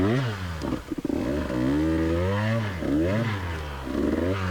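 A KTM 150 XCW TPI two-stroke dirt bike rides hard enduro terrain, its engine revving and surging continuously with rising and falling pitch as the clutch is worked, loud and close with no talk.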